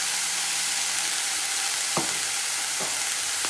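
Vegetables for pink sauce pasta frying on high heat in a pan, a loud continuous sizzle with two or three quick scraping stirs of a spatula.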